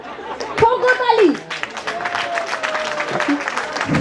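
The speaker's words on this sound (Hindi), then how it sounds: "ठोको ताली" Short burst of audience clapping mixed with laughter and chatter at a golden reunion gathering, with voices talking over the applause.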